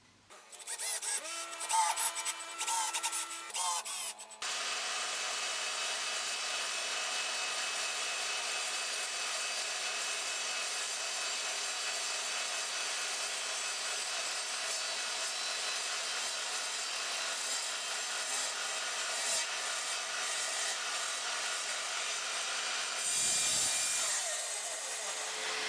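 Metal TV bracket stretcher plates being cut into four pieces with a power tool, a loud steady grinding, cutting drone after a few seconds of clattering setup, dipping briefly near the end.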